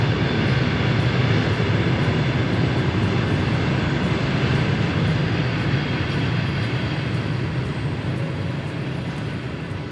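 A moving train gives a loud, steady, close rumble that stays unbroken for the whole stretch, with no voices over it.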